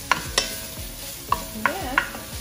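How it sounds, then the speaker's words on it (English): Egg whisked quickly in a bowl, giving a run of sharp clinking taps at an uneven rhythm over a soft steady background, close and moderately loud with no talking. "We gotta do a whisk really quick."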